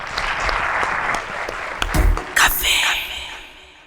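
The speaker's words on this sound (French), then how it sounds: "applaudissements pour Lorraine" A studio audience on a French talk show bursts into applause to welcome a guest, a broad steady clapping that swells with a few louder bursts before tapering off.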